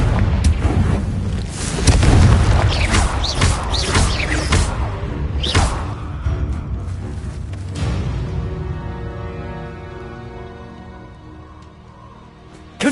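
Confringo blasting curses going off in Hogwarts Legacy, several heavy booming blasts in quick succession in the first half, with the last rumble fading out into a quieter musical tail.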